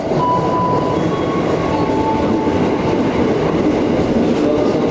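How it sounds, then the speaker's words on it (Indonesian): A KRL electric commuter train bound for Rangkasbitung rolls into Daru station with a steady loud rumble, wheels clattering, and a faint high squeal of brakes. "Ini dia KRL tujuan Rangkas Bitung sudah tiba di stasiun Daru"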